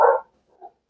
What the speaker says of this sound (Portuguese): os cachorros